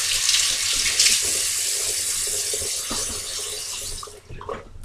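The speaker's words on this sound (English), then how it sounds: "next I will be taking my hot water and washing this off" Hot water runs steadily from a tap into a sink during face washing, a continuous hiss with some splashing, easing off near the end.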